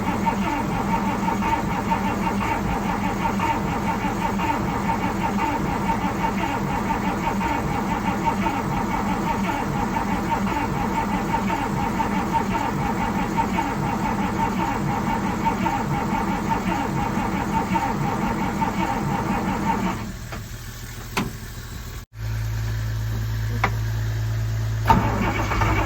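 An old 1938 Dodge engine cranks over and over at full throttle, a loud steady churning that runs without catching, then stops briefly before a heavier low rumble takes over near the end.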